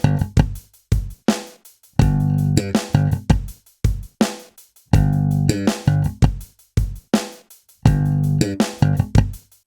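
Slap bass lick played over the G: punchy, percussive thumbed and popped notes in quick syncopated bursts separated by short gaps, loud and close with no voice.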